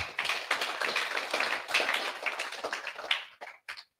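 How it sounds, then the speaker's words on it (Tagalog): An audience at a network marketing talk breaks into dense, steady clapping that fades out into a few final claps. "palakpak, palakpak"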